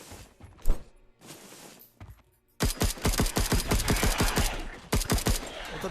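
Rapid pistol gunfire in the VR space shooter Wandering in Space: a few scattered shots, then a dense, rhythmic string of sharp close reports fired in quick succession, briefly pausing before resuming.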